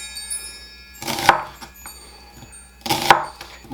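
A kitchen knife cuts through onions being sliced about a quarter inch thick for shrimp fra diavolo. Two crisp, close cuts land roughly two seconds apart against a quiet background.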